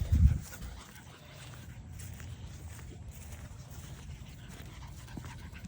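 A very dirty, happy dog pants softly and steadily, close by but fairly quiet, with a brief louder rustle or whimper at the start and no talking.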